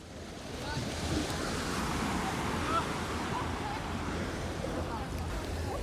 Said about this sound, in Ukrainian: Море трошки хвилюється.